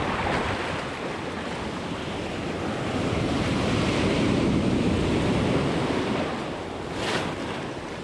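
Ocean waves rolling and breaking in the surf at Newport Beach, a steady broad wash of water with wind buffeting, swelling louder in the middle and cresting again near the end, with no voices.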